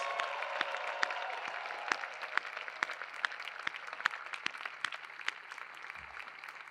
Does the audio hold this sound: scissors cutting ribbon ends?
no